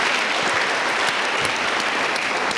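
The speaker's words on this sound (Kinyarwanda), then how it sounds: "mukomere Imana amashyi menshi cyane" Steady, dense clapping from a large church youth gathering, loud and sustained throughout with no pauses.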